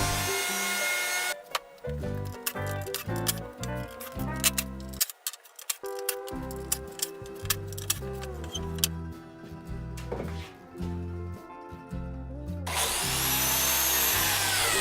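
A biscuit joiner cuts slots in a wood panel for an Arts & Crafts porch column, with short bursts of whining motor and blade bite repeating close by, separated by brief pauses, and no talk.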